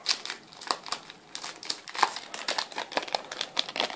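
Crinkly foil crackling and tearing in irregular bursts, close up, as a Yu-Gi-Oh! Legendary Collection 4 card pack wrapper is pulled open by hand with no talking.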